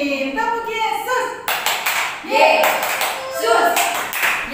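Children clap their hands in rhythm at a church kids' worship session, a series of sharp claps in a patterned beat mixed with voices chanting and talking.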